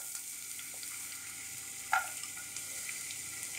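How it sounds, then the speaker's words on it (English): Chopped garlic sizzles and fries steadily in hot oil in a pan, a continuous close crackle with one brief louder stir or clatter partway through. "So after adding oil, we'll add garlic."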